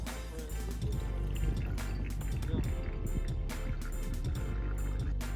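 Hot water is poured over a paper filter in a Kalita Wave pour-over dripper to wet it and preheat the dripper and cup, giving a steady, close splashing and trickling stream that lasts about five seconds.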